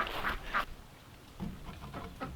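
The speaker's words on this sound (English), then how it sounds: "We're gonna go ahead and let the ducks out" Homestead ducks quacking as they are let out in the morning, several nasal quacks close by, loud at the start and then a softer run of calls.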